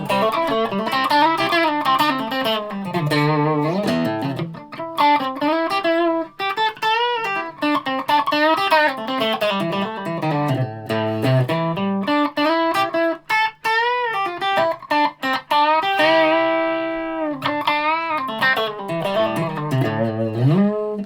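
A Japanese Fernandes Stratocaster-style electric guitar plays a continuous melodic line with a light overdriven edge, loud and close, notes bending and sustaining throughout.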